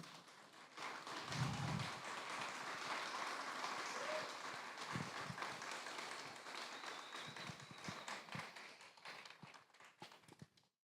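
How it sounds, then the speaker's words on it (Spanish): An audience applauds the author at a book launch, a sustained, fairly quiet wash of clapping in a room that gradually thins into scattered individual claps before fading out. "Por favor, un aplauso para él."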